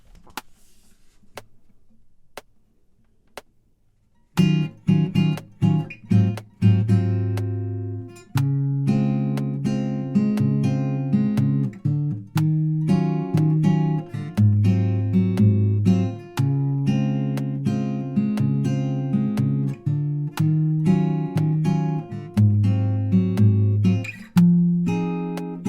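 Fingerpicked guitar plays the break from a song, a steady, close stream of plucked notes and chords after a few seconds of near silence at the start.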